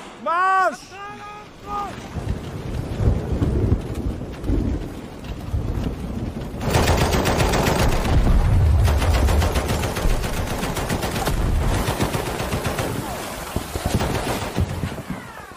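Heavy rain pours steadily through a war-film battle scene, a dense hiss under booming explosions, thunder-like rumbles and bursts of gunfire, with shouting voices breaking in at times.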